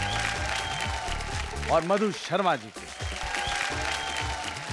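A studio audience claps to welcome the judges on a Bhojpuri TV show set, with continuous applause running beneath a host's lively spoken introduction.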